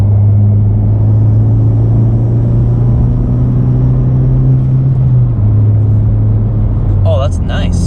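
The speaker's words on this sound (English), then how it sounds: "I'm gonna put it into fourth and give it some acceleration here" A 2020 Honda Civic Si fitted with a MAPerformance street exhaust accelerates in fourth gear, heard as a steady, deep exhaust drone and rumble that shifts slightly partway through.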